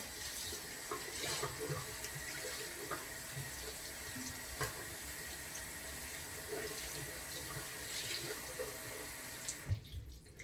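Tap water running steadily into a kitchen sink while a Norwex Enviro cloth is soaked under the stream, a continuous close hiss and splash with small shifts as the cloth moves, stopping near the end.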